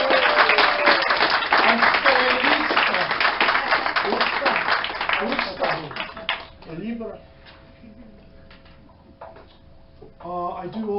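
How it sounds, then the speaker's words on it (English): Audience applause at a book launch, dense and steady for about six seconds, then thinning out as a speaker talks over the tail. "A round of applause for Luciano."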